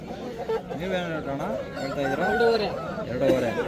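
Aseel roosters at a busy weekly rooster market, crowing and clucking close by amid constant chatter and bargaining voices of traders.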